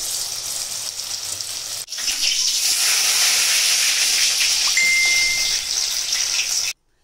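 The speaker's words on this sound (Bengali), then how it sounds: "তারপর এই আতপ চালের ব্যাটারের মধ্যে এভাবে ডুবে দেবো আর ভাজবো। তেলটা গরম হয়ে গেছে, ছেড়ে দেবো।" Flowers coated in a raw rice batter hit hot oil and a loud, steady frying sizzle takes over after a brief quieter start, staying dense and close before cutting off abruptly; nobody speaks.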